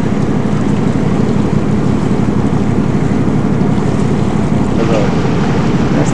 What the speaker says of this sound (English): That's the bubbly water of the jacuzzi.